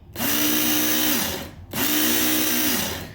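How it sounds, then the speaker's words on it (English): Work Sharp Knife & Tool Sharpener Mk2 running its belt at high speed: two close motor whines, each rising quickly, holding steady about a second, then winding down, with a short gap between them. "Go to high speed."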